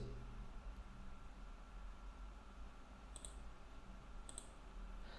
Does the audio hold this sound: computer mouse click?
yes